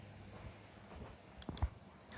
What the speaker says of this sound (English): So I'm clicking when she's turning her head to look at me.